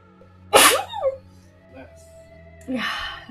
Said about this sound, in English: Should mute my sneezes too.